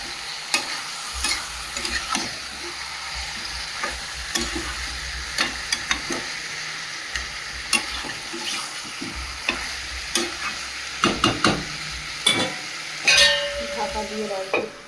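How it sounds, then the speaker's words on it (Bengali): Chicken and fried potatoes being stirred and fried in a pan, with a steady sizzle beneath repeated scraping strokes of a spoon against the pan, close and continuous for the whole stretch. "এবার চিকেনটাকে ভালো করে কষিয়ে নেব।"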